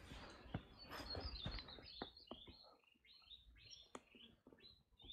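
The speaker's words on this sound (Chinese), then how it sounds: "各种鸟叫。" Several birds chirping and calling outdoors near chestnut and bayberry trees on a hillside, a lively mix of bright tweets and trills overlapping at moderate distance, with faint rustles and no talking.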